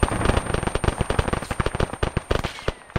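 Heavy gun in the military video game Arma fires in rapid, loud bursts, a dense string of sharp booming shots close by with only brief pauses between volleys.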